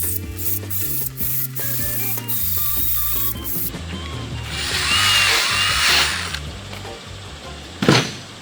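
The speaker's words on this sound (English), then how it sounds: "My headliner guy says you can use a drill with a brush" Power drill spinning a brush to scuff a car headliner, a whirring mechanical drone with gear-like ratcheting, then harsh loud abrasive scrubbing against the fabric and a sharp burst near the end.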